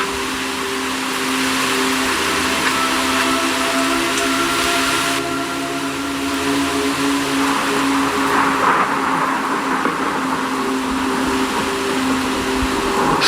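Steady heavy rain and wind with a constant wash of noise and low rumbling, continuous and fairly loud throughout, no voices.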